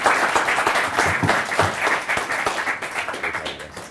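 An audience at university final presentations applauds, a dense, sustained burst of many hands clapping together that slowly tapers off.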